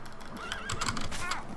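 A horse in The Witcher 3 lets out a loud, close whinny with a rising and falling pitch, joined by hoof clatter and game background noise.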